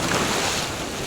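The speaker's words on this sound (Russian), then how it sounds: "Волна есть, но она такая мягкая, такая большая, мягкая." Soft, large ocean waves wash steadily around a swimmer off the coast of Peru, a dense continuous surf rush with wind buffeting the microphone close by, loud throughout and without voices.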